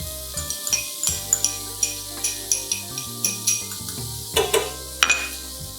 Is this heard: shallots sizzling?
yes